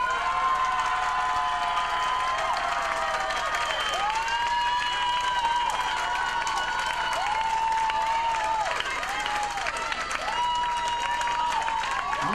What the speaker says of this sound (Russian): Аплодисменты Танюшке.